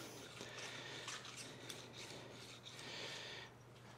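A plane iron is rubbed side to side on a thin ruler, giving a steady, close, faint metallic rasping that continues without pause.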